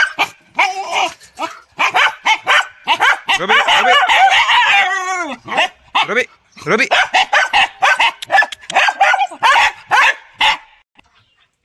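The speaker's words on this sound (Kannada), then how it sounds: "ಇದು ಲ್ಯಾಬ್ರೋಡರ್ ಮತ್ತು ಹಸ್ಕಿ, ಇದು ಕ್ರಾಸ್ ಆಗಿರೋ ನಾಯಿ ಮರಿಗಳು." Labrador-Husky cross puppies bark and yelp near a kennel in a rural setting, a rapid run of sharp barks with whining, while a person speaks between them.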